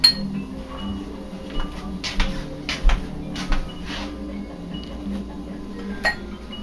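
Glass being picked up beside a vintage Waring blender, making a series of bright, close clinks and taps spread across several seconds over a low steady background hum.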